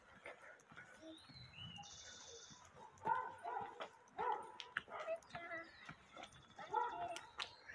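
A small dog barks, yips and whimpers in short bursts close by, while a person speaks soothingly over it at a low overall level.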